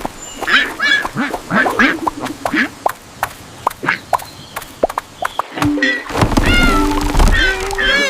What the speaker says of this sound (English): Nice work, Bao. Quack!